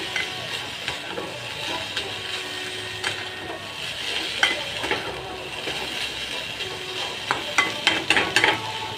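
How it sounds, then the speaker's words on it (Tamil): Grated coconut sautéing in a pan for an oyster mushroom gravy, with steady frying hiss and scraping stirs, then a quick run of louder spoon-against-pan knocks toward the end. "தேங்காய் நல்லா வதங்கட்டும்"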